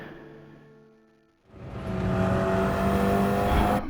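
The KTM X-Bow race car engine in a racing video game rises from a fading, lower tone into a loud, steady acceleration whose pitch climbs continuously as the throttle goes back down.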